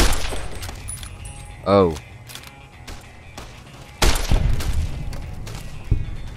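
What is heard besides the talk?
gunshots in Fallout New Vegas video game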